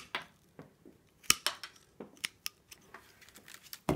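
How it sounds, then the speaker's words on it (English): Scissors snipping the ends off willow stems while making a woven willow bird feeder, a series of sharp, crisp cuts at irregular intervals, close and fairly loud with quiet handling in between. "And trim the ends off on the outside as well."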